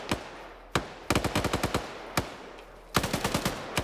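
Gunfire in the military simulation game Arma comes in sharp bursts of automatic fire, a lone shot then rapid strings of cracks separated by brief pauses, fairly close and clear with no talking.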